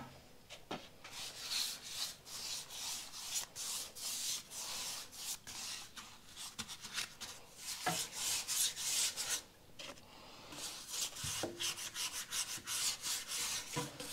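Wax being rubbed by hand onto a restored wooden garden bench, a continuous close scratchy rubbing in uneven strokes with brief pauses, no talking.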